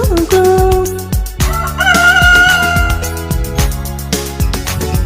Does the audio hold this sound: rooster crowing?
yes